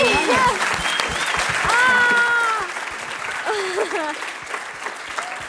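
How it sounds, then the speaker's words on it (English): Audience applause breaks out at a press conference for Kylie, a steady round of clapping that stays fairly loud throughout, with voices talking over it. "if we can have a round of applause"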